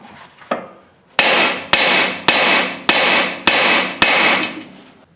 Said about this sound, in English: We're gonna whack this knuckle, temporarily deform the metal to get this tie rod end out without screwing up the boot.